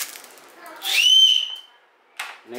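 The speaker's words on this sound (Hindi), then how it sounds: "ये वाली सीटी निकल गई है देख सकते हो आप" A small plastic toy whistle from a surprise egg gives one short, shrill blast close by, followed by a couple of brief soft sounds.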